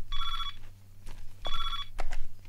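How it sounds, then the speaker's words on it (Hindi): An old-style telephone bell ringing nearby in a Hindi comedy film scene, two electronic trilling bursts each about half a second long with a clatter and thumps between, over a low hum. "मिश्रा जी का फोन है"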